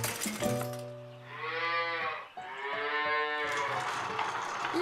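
A cow moos twice in long, drawn-out lowing calls, fairly close, with a few clinking sounds at the start.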